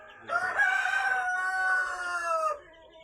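A rooster gives one loud, close crow lasting about two seconds, rising and then holding a long drawn-out note, with quiet before and after and no talking.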